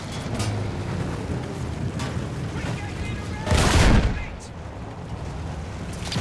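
Gunfire in the video game Battlefield 1 during a vehicle fight, a low rumble of shots capped by one loud burst or blast midway, with someone talking over the action.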